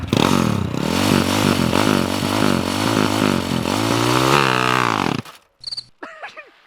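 A motorcycle launches hard from a standstill in an enclosed space, its engine revving loud and close through rising gear-shift sweeps for about five seconds, then cutting off into a few brief, fainter revs.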